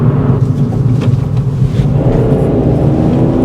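A Kia Picanto GT-Line 1.0 manual held in third gear around 3,000 RPM, a loud, steady, close engine drone with road rumble, no talking.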